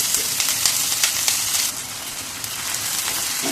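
Thinly sliced onions and green chilies frying in oil, a dense, steady crackling sizzle that stays close and continuous, slightly quieter in the second half, with no talking.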